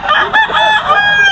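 A mature Thunderbird gamecock rooster crows loudly and close, a drawn-out harmonic call with a couple of rising surges, carrying through nearly the whole moment.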